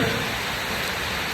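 Steady rain falls at dawn outside a Thai Buddhist temple, a close, even hiss of drops on surfaces that holds at constant loudness throughout, with no voices.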